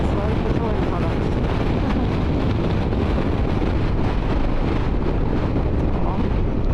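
Wind buffeting a rider during a motorcycle trip through Tatum, New Mexico, on a hot, gusty stretch; a loud, continuous roar of rushing air that never lets up.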